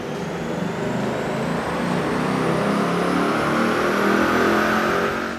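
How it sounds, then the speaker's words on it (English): A manual 2015 Ford Mustang GT runs on a dyno, its engine roaring loudly and continuously. The pitch climbs steadily as it pulls through the revs, close-up and unbroken. "we ran our manual 2015 GT on the dyno"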